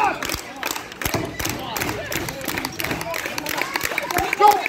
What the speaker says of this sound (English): I don't want to hear that clapping!